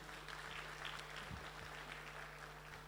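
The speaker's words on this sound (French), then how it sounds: "je vous demande de les applaudir" Audience applause fills a banquet hall at an awards ceremony, a steady broadband clatter of many hands clapping throughout, with a low hum beneath and no speech.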